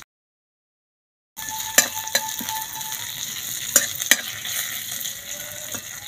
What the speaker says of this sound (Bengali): কারি পাতাগুলো তেলের মধ্যে দিয়ে দেবো। দিয়ে দেবো 1/2 টেবিল চামচ গোটা জিরে। দিয়ে দেবো মৌরি